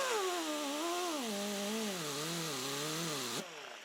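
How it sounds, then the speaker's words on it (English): A motorized buffing wheel loaded with jeweler's rouge whines steadily for guitar fret polishing, its pitch wavering up and down under load before it cuts to a lower hum near the end. "Load up the buffer."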